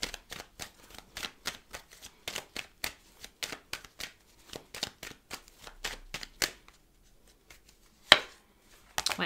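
Tarot cards are shuffled and handled close up in a quick run of crisp riffling taps, evenly paced at first, then a pause, a sharp slap of cards and a few final flicks.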